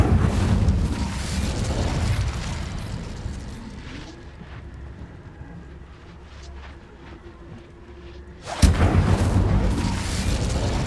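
A spell is cast in Hogwarts Legacy: a loud roaring whoosh and rumble of magical fire that fades over several seconds, then bursts again in a sharp, forceful blast.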